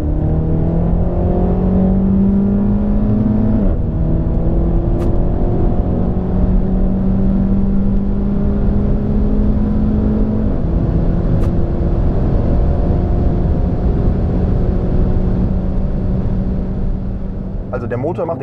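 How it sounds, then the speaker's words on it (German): Engine of a 2018 Renault Mégane RS heard from inside while driving, a loud steady drone with pitch rising through the gears and brief shift breaks, under continuous talk. "Also der Motor macht erstmal einen sehr wachen, sehr lebendigen, sehr spritzigen Eindruck."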